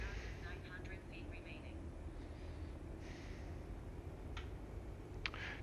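A Diamond DA62 twin-engine airplane from X-Plane 11 hums with a steady, even engine drone throughout, joined by a few faint cockpit clicks and ticks and no audible talk.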